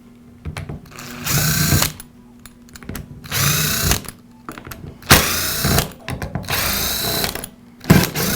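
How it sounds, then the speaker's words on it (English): A power driver backs out the screws holding the two housing halves of a Milwaukee cordless drill together. Several close, whining bursts of one to two seconds each repeat with brief quiet gaps and small clicks between them. "now we'll remove the screws that secure the 2 halves of the housing together."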